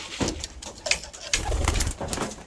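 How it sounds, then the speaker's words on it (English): A pigeon coos close by in short, soft throaty pulses, with light rustling and possible wing flaps mixed in. "He's a really nice looking pigeon, that one."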